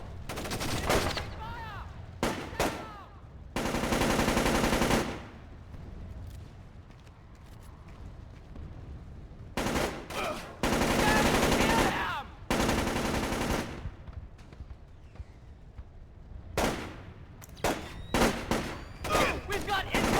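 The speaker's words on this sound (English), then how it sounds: "We've got incoming shots!" Repeated bursts of machine gun fire in the stealth video game Splinter Cell: Chaos Theory, loud sustained volleys separated by quieter gaps with shorter scattered shots, and voices shouting between them.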